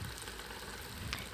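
Spices stir-fried in a pan hiss in a steady, soft sizzle with a brief scrape of stirring, close and alone.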